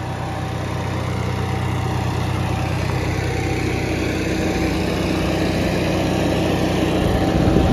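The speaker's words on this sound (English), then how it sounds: "good old hit and miss engine" An antique hit and miss engine, belted up and running at a flea market, gives a continuous low mechanical chugging that stays loud and even throughout.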